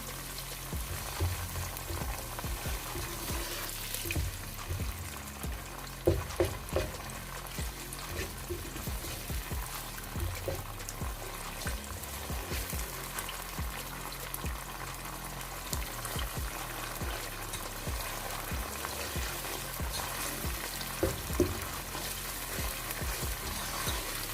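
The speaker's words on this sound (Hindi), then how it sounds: "अब हम इनको कुछ देर भूनते हैं, फिर इसमें स्पाइसेस ऐड करेंगे।" Chopped onions and green chilies sizzle and crackle in hot oil while being stirred for Punjabi sarson ka saag, with occasional scraping of the spoon against the pan, close and continuous.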